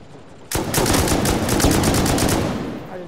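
Rapid machine-gun fire from an attacking helicopter pounds a base in a video game, a loud sustained burst starting abruptly and running nearly three seconds before tapering off.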